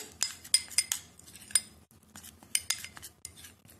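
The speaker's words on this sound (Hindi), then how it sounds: "अब इन सारी चीजों को आप अच्छी तरह से मिक्स करके एक बढ़िया सा पेस्ट तैयार कर लें" A utensil stirring and clinking against a bowl while mixing a tomato face paste, irregular scraping and metallic taps in two bursts with a short pause between, close and fairly quiet.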